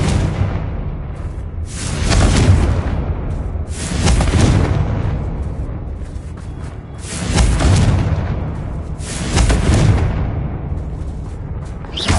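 Repeated booming blasts from a Confringo fire spell in a Hogwarts video game, four loud explosions spaced about two to three seconds apart, each with a rumbling whoosh and tail.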